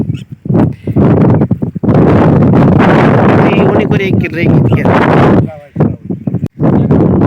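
Gusts of wind buffet the microphone in loud, rough bursts while people talk close by.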